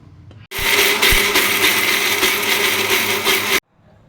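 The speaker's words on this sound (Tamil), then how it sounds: "இதை வந்து நான் மிக்ஸி ஜாரில் மாற்றி அரைச்சி எடுத்துகிட்டு வந்துட்டு போகிறேன்" A mixer grinder grinds radish chutney, whirring loudly and steadily for about three seconds, then cuts off abruptly.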